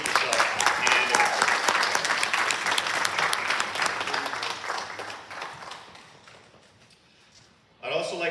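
Parents, family and guests at the Charter College Lancaster 2023 graduation ceremony give a broad wash of applause that gradually fades, and then a voice begins speaking.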